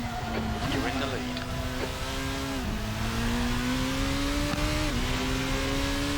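Formula race car in the sim racing game Assetto Corsa holds a high, steady engine drone that climbs through gears with brief drops at shifts, loud and continuous, while someone talks over it.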